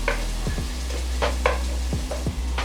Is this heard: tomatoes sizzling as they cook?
yes